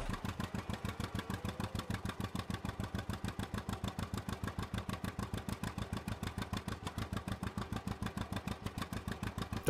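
A water tanker vehicle in Farming Simulator 19 creeps along at 6 km/h, its engine a steady, fast, even putter at moderate level that runs unbroken throughout.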